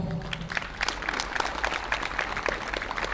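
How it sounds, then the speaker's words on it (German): A crowd at an outdoor rally applauds the police, a steady patter of many hands clapping for a few seconds at moderate distance. "Ihr gebt jetzt der Polizei einen riesen Applaus noch."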